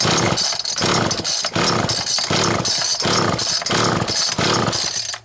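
Homelite XL chainsaw pulled to start, unchoked: loud, close, rhythmic bursts of rasping, sputtering engine noise repeating roughly every half second across the whole stretch, with no talking.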